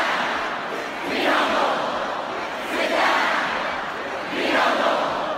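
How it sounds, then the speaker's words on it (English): A huge concert crowd chants the lyrics of a song in unison with the music cut out, loud rhythmic roaring phrases swelling roughly every one and a half seconds. "the music cuts out to let the crowd take over"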